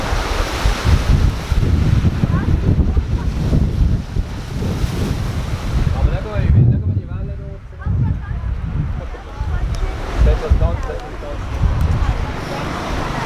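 Sea waves washing onto the shore near Heraklion with strong wind buffeting the microphone, loud and continuous, while a person talks over the surf throughout.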